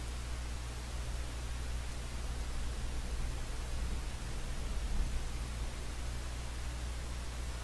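Steady, regular ambient noise partly cancelled by interfering waves, leaving a constant broadband hiss with a low hum underneath, fairly quiet and unchanging throughout.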